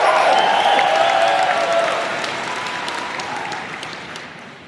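A large crowd at a Dragonsteel Nexus 2025 reading event applauds and cheers loudly for Jeff. The sustained dense clapping, with some whoops, slowly thins and softens over nearly five seconds.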